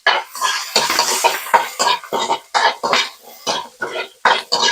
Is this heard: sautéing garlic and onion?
yes